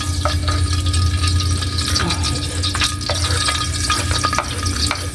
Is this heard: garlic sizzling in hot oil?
yes